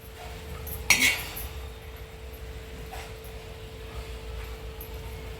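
A utensil stirring amaranth greens in a pan on a griddle, with one sharp metallic clink near the start and faint scraping against a steady low kitchen hum.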